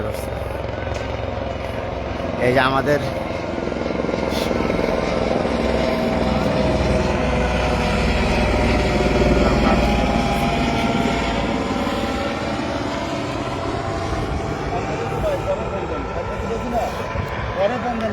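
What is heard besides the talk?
helicopter arriving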